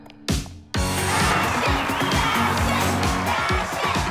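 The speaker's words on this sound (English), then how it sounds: "They're still cheering for us?" A crowd cheers for the team in a Barbie Team Fashion cartoon, a loud sustained roar of voices and whoops that swells suddenly after a short burst and carries on steadily.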